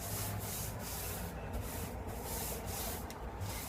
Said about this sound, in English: So I paint it on the wall here.